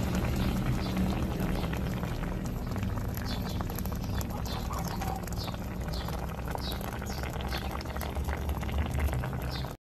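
Water with shrimp paste boiling in a pot, a continuous dense bubbling and popping that stays loud and steady throughout before cutting off at the end.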